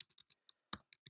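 Quick bursts of computer keyboard typing during an online betting session, about nine sharp key clicks in an uneven rhythm with one heavier strike, close and fairly quiet with no talk.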